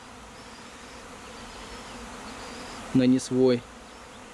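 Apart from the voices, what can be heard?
swarm of honey bees around hives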